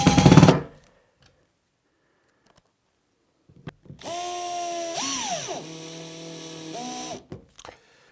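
A cordless power drill drives small screws through a metal bracket into the base of a bath, with a whining motor run of about three seconds that dips in pitch under load, then short clicks, and no talk.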